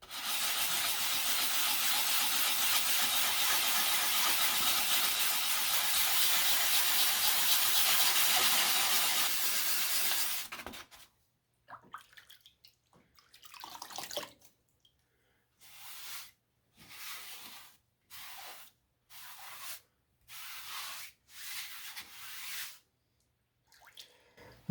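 Primer filler is sanded on an aircraft fuselage, first as a steady, close rasping hiss for about ten seconds, then as a series of short, separate scraping strokes with quiet gaps between them.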